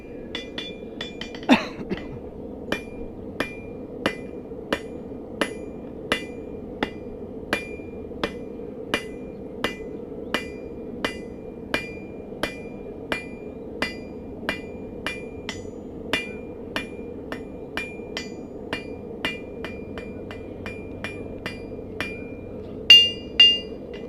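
A blacksmith forges a nail, striking metal on an anvil in a steady run of about thirty sharp, ringing hammer blows, evenly spaced under a low hum, with a louder double strike at the end.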